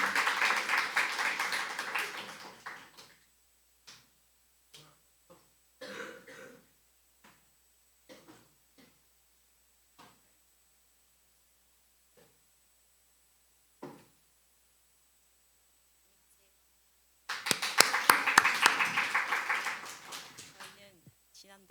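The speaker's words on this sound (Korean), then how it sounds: "박수로 모시겠습니다." A Korean church congregation at a Sunday service applauds to welcome a newlywed couple coming up to sing, a warm burst of clapping at first that trails off into scattered claps and quiet, then swells into loud applause again near the end.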